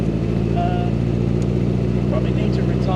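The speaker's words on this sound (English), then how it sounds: "you can hear under load the engine is just starting to ping" A 1961 Triumph TR3A engine runs steadily under load, giving a dense, even rumble near the car. A voice speaks over it.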